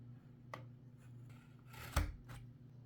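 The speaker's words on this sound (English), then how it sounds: "Get a knife and cut or pull the tabs off." A knife slicing through the seal tabs on a Samsung Galaxy S25 Ultra box gives two or three short, crisp cutting scrapes, with one firmer thump-like snip, close up and alone over faint background hum.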